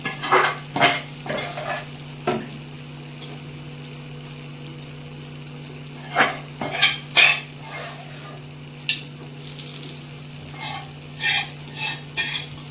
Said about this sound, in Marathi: परत राहिलेली भाजी आपण तळून घेणार आहोत